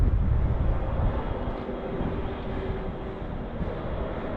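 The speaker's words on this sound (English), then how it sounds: "there's clearly a low-flying aircraft out here somewhere" A low-flying aircraft drones somewhere over mountains, a steady broadband rumble that stays constant throughout, mixed with wind noise on the microphone.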